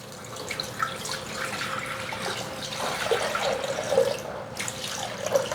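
Water pours steadily into a container resting on a kitchen scale, a continuous close splashing trickle that briefly intensifies and drips near the end.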